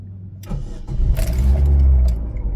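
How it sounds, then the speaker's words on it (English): A 2008 Holden Barina's engine cranks and fires up, then settles into a loud, steady idle with raised revs, close by and with no one talking. "I can start the car."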